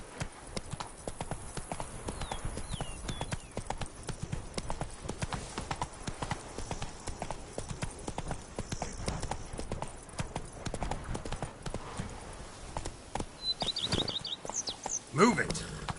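Horse hooves clip-clop steadily in The Witcher 3 as the mount is ridden along, a continuous close rhythmic clatter with faint birds and a brief snort near the end.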